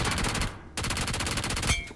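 Rapid automatic gunfire in the battle royale game BGMI rattles in fast regular bursts, breaking off briefly near the midpoint before resuming, loud and unaccompanied by talk.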